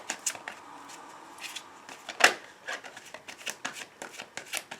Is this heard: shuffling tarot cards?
yes